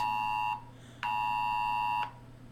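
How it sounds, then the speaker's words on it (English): A phone sounds its Amber Alert emergency tone close by, with three long, loud, steady electronic blasts separated by brief gaps, each cut off abruptly. "there is a child abduction Amber Alert"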